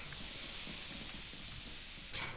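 Steam hisses from a valve in the video game Lethal Company, a steady broadband rush that runs unbroken throughout. It is moderately loud, with no talking over it.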